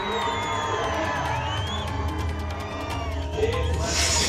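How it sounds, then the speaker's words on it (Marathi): Young supporters at a political rally for Udayanraje raise a burst of cheering and whoops. The crowd noise is dense and mid-distance, with scattered shouts and whistles swelling toward the end. "राजेंनी कॉलर उडवताच तरुणांनी एकच जल्लोष दिला"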